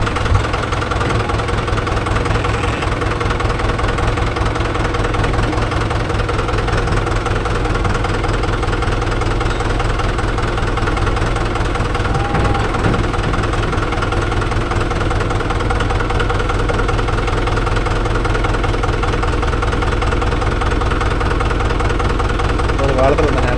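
A Mahindra 575 DI tractor's diesel engine chugging steadily and close, running at a constant, heavy rhythm throughout with faint voices underneath.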